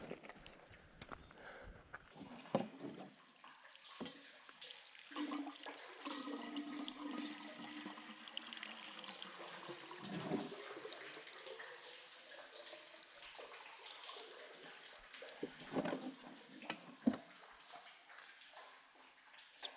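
Water being drawn from a desert well in the Sahara, with splashing and gushing pours in uneven bursts over twenty seconds, plus scattered knocks and handling sounds.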